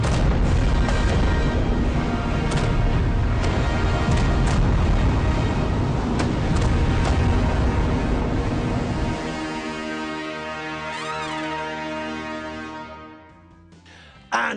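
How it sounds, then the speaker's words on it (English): Fireworks bursting in a dense, continuous barrage of booms and crackles for about nine seconds, then thinning out, with a few whistling rockets rising near the end. "And what great fireworks they were, weren't they?"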